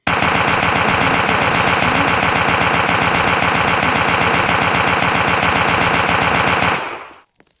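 Rapid automatic gunfire in the block-style shooter game Chic Blockos fires as a continuous, loud, evenly spaced burst for about seven seconds, then cuts off abruptly.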